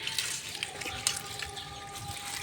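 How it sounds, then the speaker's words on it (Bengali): Kulekhara leafy greens being washed by hand in water, with steady splashing and trickling close by, broken by a few brighter splashes, and no talking. "শাকটিকে সুন্দর করে পরিষ্কার করে ধুয়ে নেব।"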